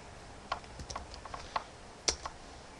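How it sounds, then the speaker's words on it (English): A handful of sparse keystrokes on a computer keyboard enter a default gateway number for console network settings, with soft, scattered taps and one firmer click over quiet background noise and no voices. "And you're gonna take it and type it in"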